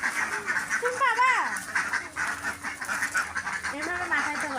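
Ducks quack repeatedly at close range while being fed, nasal calls in short uneven bursts over a noisy farmyard background, with a person talking intermittently among them.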